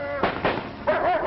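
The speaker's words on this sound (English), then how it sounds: "one explosion after another comes over" Explosions go off near army dogs in training, three sharp booming blasts in quick succession, close and loud, on an old 1942 recording with a voice faintly underneath.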